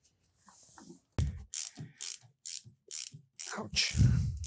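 A ratchet wrench clicks in short repeated bursts while bolts are tightened during a Jaguar engine and transmission install in a garage, about seven close, even strokes after a faint start.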